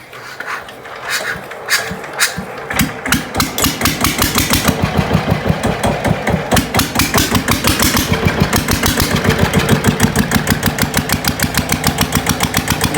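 A Toyota GA70 engine on its mount runs steadily and evenly after a refit, a fast regular chugging that holds a constant pace, loud and close.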